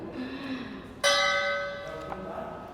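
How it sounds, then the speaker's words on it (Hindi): A bell strikes once with a bright, ringing tone that hangs and slowly fades, followed by a softer second tap, rung by children; faint background murmur underneath. "ये घंटी बहुत प्यारी बज रही है।"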